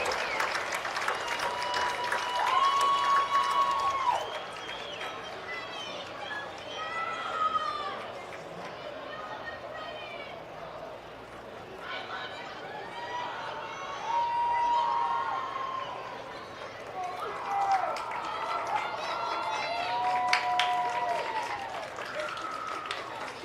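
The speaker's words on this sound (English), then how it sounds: "One last round of applause for all of our homecoming court" Crowd applause rolls through the stands for the homecoming court at a Grants Pass High School football game, fairly distant and soft, while an announcer talks over the public address during much of it.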